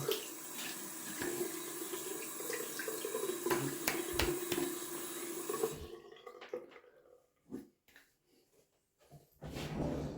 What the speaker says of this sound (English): just rinsing off a little bit again.